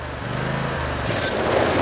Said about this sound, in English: Okay, this is the handheld lawnmower.